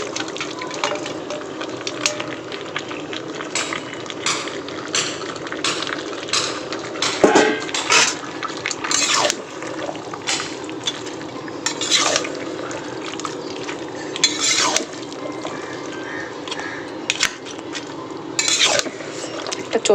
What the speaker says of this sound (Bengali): মাছের মাথার পটকাগুলো ভালো করে সবজির সঙ্গে মিলিয়ে নেব